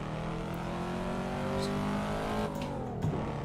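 A race car engine in the Assetto Corsa video game drones steadily with layered harmonic whine, then dips and surges around a gear shift near the end, close and loud with no talking.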